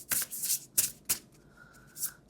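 Mary Magdalene oracle deck cards being shuffled by hand, several quick crisp riffles and snaps at close range, separated by short pauses.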